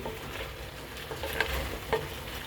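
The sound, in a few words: chicken with red chili sauce sautéing in a pan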